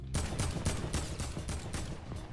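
Rapid gunfire from the video game Fortnite rattles off in a dense burst of repeated shots, loud and close with a heavy low thump and no talk.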